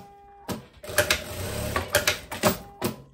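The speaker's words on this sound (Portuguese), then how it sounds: "Vou passar uma costurinha com arremate nas duas, pra daí ir lá fazer a limpeza" A sewing machine stitches the sleeve seams of a long dress in several short bursts. Its mechanism whirs and clatters close by, with clicks and brief pauses between runs.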